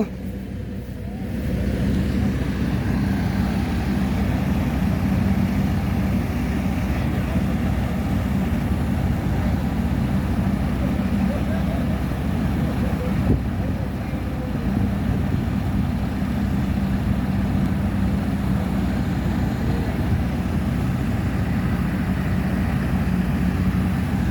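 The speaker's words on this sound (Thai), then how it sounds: "รถไถมา" A farm tractor engine runs close by during a rice harvest, a steady low rumbling drone that holds at even loudness throughout.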